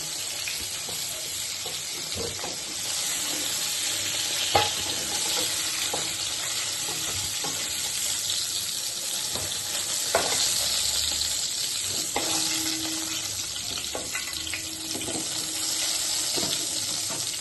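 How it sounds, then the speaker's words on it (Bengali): Pointed gourd pieces frying in a pan, a steady close hiss of oil with intermittent scrapes and knocks of stirring scattered across the clip and a few brief louder clatters. "পটলটা আমার ঢাকা দিয়ে দিয়ে ভেজে নিয়েছি।"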